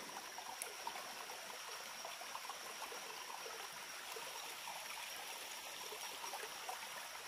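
A mountain stream runs steadily and close by, a continuous broadband rush and trickle of water with no pauses, heard alone.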